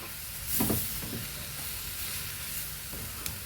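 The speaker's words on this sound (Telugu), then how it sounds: "టమాటాలు వేసి ఇలాగే కొంచెం ఫ్రై అవ్వాలండి" Tomatoes frying in a pan for a Kerala-style chicken curry, with a soft steady sizzle and hiss, a brief louder spurt of spattering near the start and a few faint stirring clinks.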